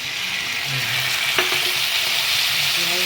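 Food fries in a pan with a loud, steady, close sizzle that hisses continuously throughout, with only a brief clink partway through and no voices.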